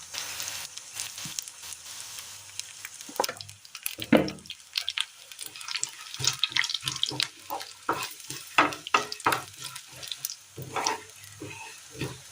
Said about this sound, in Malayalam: ഇനി ഇതിലേക്ക് നമുക്ക് ഒരല്പം എണ്ണ ഒഴിച്ചു കൊടുക്കാം